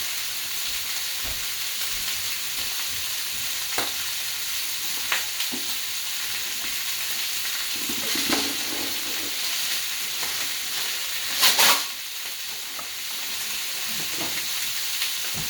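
Steady loud sizzling of ribs frying in a pan, with occasional scrapes and clinks as they are moved around.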